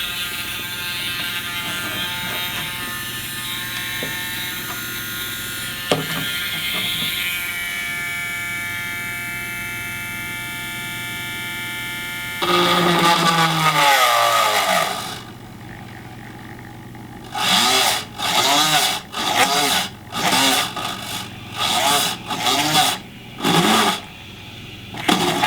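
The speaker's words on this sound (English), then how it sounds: "So yeah, I'm gonna drill those in now." Power drill boring holes into a plastic Sega Master System II console case, with a steady whine first, then a series of short close bursts as each hole is drilled. A constant motor hum runs under everything.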